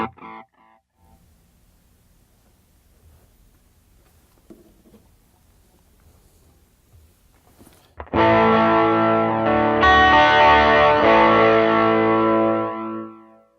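Electric guitar played through a Line 6 HX Effects processor set to modulated chorus echo, entering after a quiet stretch with strummed chords that ring out loud and shimmering, with wavering repeats trailing off at the end.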